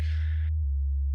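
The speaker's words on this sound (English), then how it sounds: "I think it's literally just a sine wave for both" A deep, pure sine bass tone holds steady, briefly accompanied by a brighter buzzing layer that fades out before the bass continues alone.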